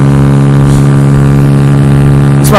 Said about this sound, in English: It's my first time like vlogging with this new exhaust, so I'm not really sure how loud it's gonna be